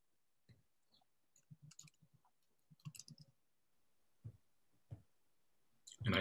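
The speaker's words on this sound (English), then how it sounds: "And I think my keyboard broke the silence" Computer keyboard keys click in a quiet room: scattered, irregular taps that cluster in short runs, with a couple of heavier knocks and a louder burst at the very end.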